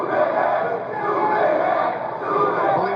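A sold-out wrestling crowd in a San Antonio arena roars in a dense, steady wall of cheering and shouting that swells and dips slightly, with a commentator's voice over the top.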